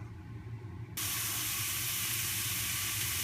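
Ground beef browns in a frying pan: after a quiet second, a loud, steady sizzling hiss starts abruptly and keeps going without a break.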